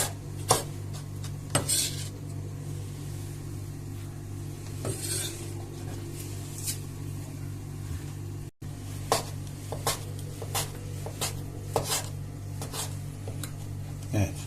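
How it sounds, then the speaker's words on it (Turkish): Repeated knife cuts through kaşar cheese tap against a cutting board in an uneven rhythm, close up, with faint kitchen clatter and a low background hum. "Şimdi şu şekilde kaşarımı doğruyorum."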